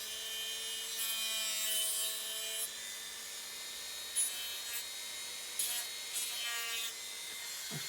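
A wooden hull of an Artesania Latina 1:84 Santisima Trinidad ship model is sanded and filed, a continuous close rasping scrape layered with a steady mechanical whine and occasional louder strokes.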